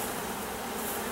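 Honeybees buzzing steadily around an open hive during a spring split, a soft continuous drone with no talk over it.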